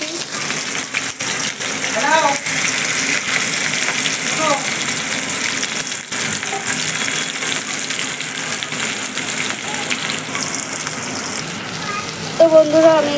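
Whole spices, two bay leaves, two dried chillies and a little cumin fry in oil in a kadai, giving a continuous close sizzle while someone talks over it.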